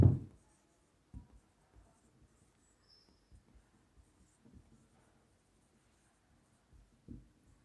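Writing on a board during a science lesson, with a few soft, scattered strokes and taps, faint and close, separated by quiet pauses.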